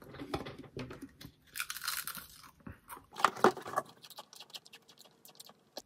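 Crunchy bites of a Pringles potato chip being chewed close up, with irregular crisp crackles and bursts, one louder cluster midway, and no talking.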